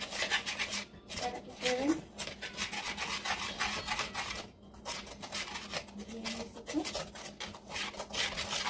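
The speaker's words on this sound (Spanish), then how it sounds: "Vamos a batir bien." Caramel mixture beaten by hand in a home kitchen, a quick rhythmic scraping and rubbing of a whisk against the pot that runs almost continuously with brief pauses.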